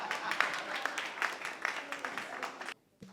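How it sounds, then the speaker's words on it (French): Scattered audience clapping on a singing show, uneven and fairly light with some prominent individual claps, stopping abruptly near the end before a brief low hum. "On applaudit pour lui encore."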